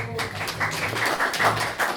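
A church congregation gathered for a Sunday worship service claps in thanks to the piano accompanist. The claps come as rapid, fairly even bursts over a low, steady room hum.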